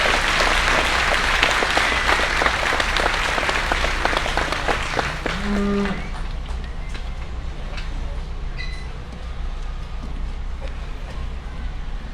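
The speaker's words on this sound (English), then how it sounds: "please give them a really big round of applause" An audience applauds the kids at a livestock show: several seconds of dense, loud clapping that thins out and fades to a quieter murmur of the arena.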